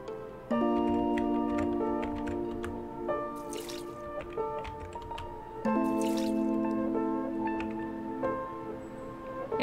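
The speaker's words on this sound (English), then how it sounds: "Okay, plants have been watered." Plants being watered in the video game OMORI: two bursts of dripping, squishy water effects layered over a steady melodic game tune, with no voices.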